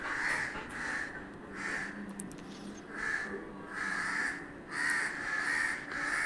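Crows caw repeatedly in a steady rhythm of harsh calls, fairly close, over a low background hiss.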